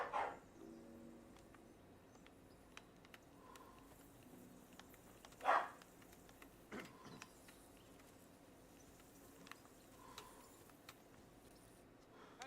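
A dog in the video game Kingdom Come Deliverance 2 gives a few short, separate barks that sound faint and somewhat distant over a quiet outdoor ambience with insect chirring.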